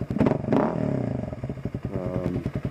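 A 2009 Kawasaki KLX250S dual-sport motorcycle idles with the choke off, its single-cylinder engine giving a steady, close, even putter after a brief blip of throttle at the start.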